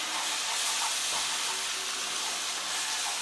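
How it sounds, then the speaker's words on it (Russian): Milk trickles into a hot butter and flour roux for béchamel, a dense steady hiss and sizzle filling the space evenly and loudly for a few seconds with no voices. "Начинаем вливать по чуть-чуть молоко."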